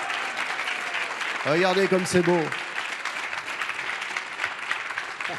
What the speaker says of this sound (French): On va tous se lever et applaudir la fanfare